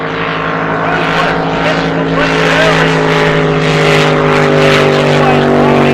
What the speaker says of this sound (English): Boat sounds pretty strong actually